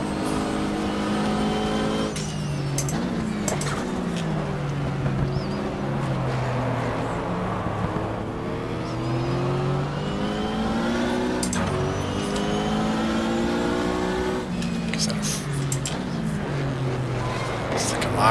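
A Camaro and a Marlboro-liveried Mustang race car in the GTR2 sim at the 1995 Daytona 24 Hour pass by, engines droning with rising and falling pitch sweeps, loud and continuous under faint background noise.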